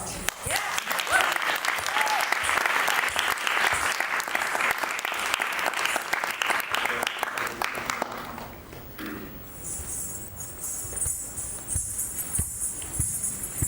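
Sustained applause from an audience at an arangetram, a dense roar of clapping that holds for several seconds and then thins into scattered claps under a faint high hiss.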